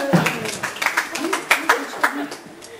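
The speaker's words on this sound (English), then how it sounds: "Big round of applause for Catherine!" Audience applause at a chain reaction science show, a quick burst of claps and cheers mixed with voices, fairly close and fading toward the end.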